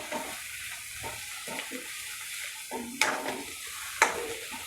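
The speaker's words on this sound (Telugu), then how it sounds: "ఇది బాగా ఒక్కసారిగా ఫ్రై చేసుకోవాలి" Coriander and masala fry in a pan for kadhi, with a soft steady sizzle and a few sharp scraping stir clatters, the loudest two near the end, and no voices.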